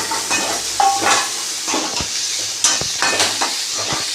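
Cabbage cooking in a pan for momo filling, a loud close sizzle and hiss with clinks and scrapes of a utensil and lid against the pan, no voices.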